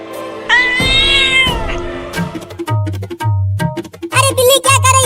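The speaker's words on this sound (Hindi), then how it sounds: "अब मछली लेके भाग बिल्ली।" Cartoon cat meowing loudly with drawn-out, wavering meows over a busy, rhythmic backing of music and comic sound effects, ending in a burst of high, squealing yowls.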